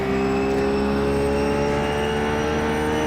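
A Ruf GT3 race car at Brands Hatch in iRacing, its engine holding a steady high-pitched whine under throttle, close and continuous throughout.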